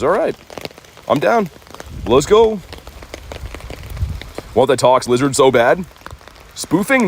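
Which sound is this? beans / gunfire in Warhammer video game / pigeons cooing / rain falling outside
rain falling outside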